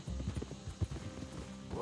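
Horse hooves clip-clop steadily in Red Dead Redemption 2, a quiet, uneven run of muffled thuds at close range, with a faint snort or whinny near the end.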